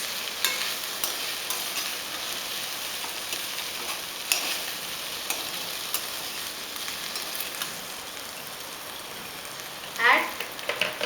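A spoon stirs okra masala gravy in a pan, making a steady soft sizzling hiss with scraping movements and a brief louder clatter near the end.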